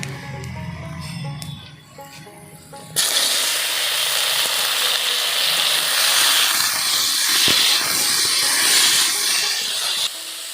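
Raw mango pieces dropped into hot mustard oil in a pan burst into a loud, steady hiss of sizzling. The sound starts abruptly after a few seconds of quieter kitchen noise and holds close and strong until the end.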